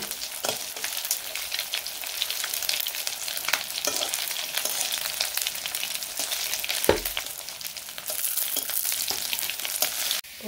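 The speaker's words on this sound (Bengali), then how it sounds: "এই পাশে আমি তো বড়া সবগুলো ভেজে নামিয়ে নিচ্ছি" Pumpkin leaf fritters (bora) with mustard paste frying in hot oil in a village kitchen, a steady close sizzle and crackle with occasional stirring clatter, no talk.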